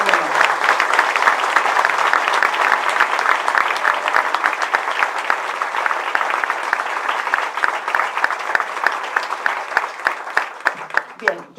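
An audience at a university lecture on Latin American political philosophy in Buenos Aires claps steadily for around eleven seconds, a dense sustained crowd applause that thins into a few scattered louder claps at the end.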